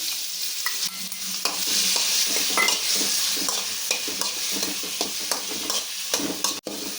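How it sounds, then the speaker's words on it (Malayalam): Slices of ripe nendran plantain sizzle in hot ghee for pazham pradhaman, a continuous close frying crackle broken by repeated scraping stirs of the spoon. "നേന്ത്രപ്പഴം നെയ്യിലിട്ട് വറുത്തെടുക്കുക"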